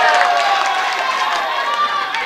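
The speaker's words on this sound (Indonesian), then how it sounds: "kita berikan tepuk tangan yang meriah untuk pasangan calon nomor 1, 2, 3, dan juga 4" An audience at a televised public debate for the Sorong city election applauds and cheers in a dense, continuous wash of clapping, with voices mixed in.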